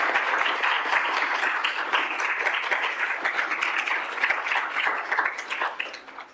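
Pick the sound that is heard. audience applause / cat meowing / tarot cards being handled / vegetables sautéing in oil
audience applause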